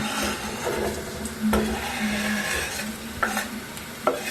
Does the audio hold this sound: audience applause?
no